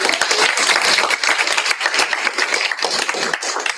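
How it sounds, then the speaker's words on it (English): A conference audience claps for a presenter before a lunch break, brisk close-sounding applause from a sizeable room, dense and lively, swelling and dipping slightly but continuing for the whole stretch. "Please help me give another round of applause to you."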